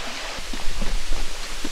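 A small mountain stream trickles past a pond at a hillside spot, giving a steady, close wash of flowing water with no voices.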